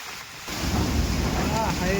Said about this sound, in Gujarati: માણસો પડી જાય એટલી સ્પીડમાં પવન છે